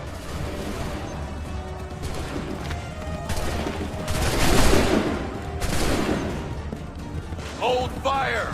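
Soldiers fire musket volleys in Assassin's Creed III, with repeated bursts of crackling gunfire rolling across a noisy battlefield amid background commotion.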